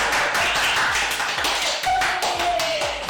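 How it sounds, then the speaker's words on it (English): An online audience claps during a live English-language lesson episode, a steady run of light, evenly paced taps that continues throughout. "Thank you so much for the claps."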